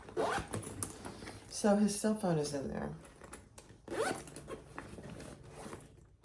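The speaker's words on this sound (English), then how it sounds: "You have a zipper top, and you open that" A zipper on a crossbody bag is pulled open and closed in several quick, rasping runs at close range, while a person talks between and over the strokes.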